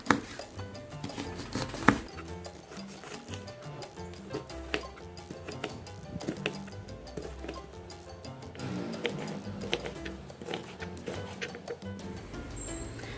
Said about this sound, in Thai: ให้นำพริกเหลืองมาหั่นเป็นท่อนนะคะ